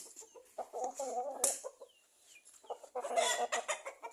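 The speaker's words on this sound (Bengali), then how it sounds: "ওই তো মুরগি ঘরের পাগো উঠতে যাইছে" Four-month-old broiler chickens clucking near their coop, a series of close, soft, irregular clucks and murmurs with a brief lull midway, no talking.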